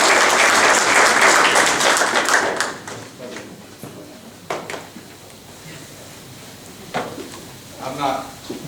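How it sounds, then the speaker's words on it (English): Audience at a high school athletics hall of fame reception applauding a teammate, full, loud clapping for the first few seconds, then fading into scattered claps, taps and thuds with some talk. "join me in a round of applause for my friend and teammate"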